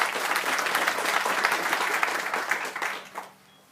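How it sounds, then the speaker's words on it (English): Applause from a graduation ceremony audience, a dense wash of clapping that holds steady and then thins out and fades near the end, with no talk over it. "Can I one more applause?"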